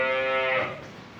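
A dairy cow gives a single long, loud moo on a farm, starting strong and trailing off over about a second.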